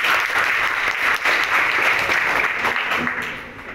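Loud, dense applause from a group of schoolchildren at a motivational talk, a steady roar of clapping that tapers off slightly at the end.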